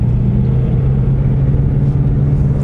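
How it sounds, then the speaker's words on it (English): A manual car's engine idles and revs gently to around 2000 RPM while the clutch is eased out, a close, steady low rumble with a constant droning hum and no voices. "Give it a little bit of gas while I'm letting out on the clutch very slowly"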